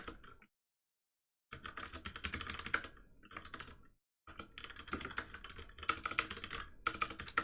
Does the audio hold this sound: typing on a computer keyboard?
yes